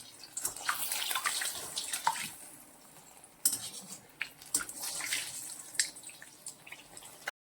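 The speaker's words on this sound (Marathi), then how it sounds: "मस्त असं तळून घ्यायचं आहे एकदा दोनदा खालीवरी करून घ्यायचं आहे" Cheese vada pav vadas deep-fry in hot oil with bursts of bubbling and spattering, mixed with occasional utensil clinks nearby. The sound swells and fades unevenly, and no one talks.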